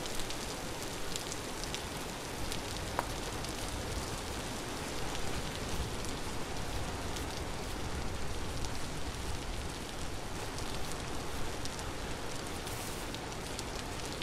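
Steady, even rain hisses throughout in the video game Vintage Story, a dense continuous patter with no voices or breaks.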